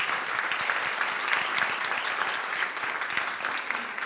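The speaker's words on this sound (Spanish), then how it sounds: "Un aplauso, por favor." An audience applauds panelists arriving at a school education panel event, with steady, dense clapping from a sizable crowd throughout, fairly loud and close, with no talking.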